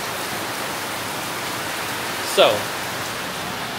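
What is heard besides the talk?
heavy rain pouring down on Phuket island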